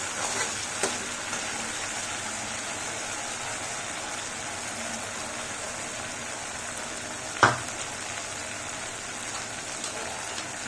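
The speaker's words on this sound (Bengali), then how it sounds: "মশলা ভালো করে ভাজা হয়ে গেছে, দেখুন তেল ছেড়ে দিয়েছে মশলা।" Spice masala frying in oil for a stuffed capsicum dish gives a faint, steady sizzle that hisses evenly throughout, broken once by a single soft click.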